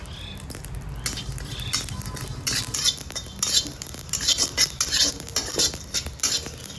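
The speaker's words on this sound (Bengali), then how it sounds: "কড়াই গরম হয়ে গেছে দিয়ে দেবো গোটা জিরা" Whole cumin seeds crackle and spatter in a hot wok, with scraping stirs and metal clinks against the pan, close and fairly loud, in uneven bursts and no talking.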